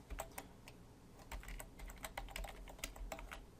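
Quick, light keystrokes on a computer keyboard tap out a password in an irregular burst of close clicks, fairly quiet with short pauses between groups.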